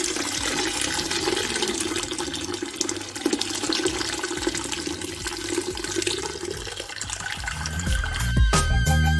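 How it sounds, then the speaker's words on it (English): Wort draining out of a lifted mash bag during a weizenbock brew day, a steady close splashing pour of liquid that runs unbroken, with some clatter near the end. "So it's time to drain the bag now."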